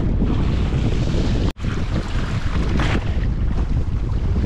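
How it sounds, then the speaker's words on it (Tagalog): Strong sea waves and wind batter a small fishing boat at sea while lobster fishing, a loud continuous roar of water and microphone wind with one abrupt brief dropout midway, no voices. "malakas ang mga alon."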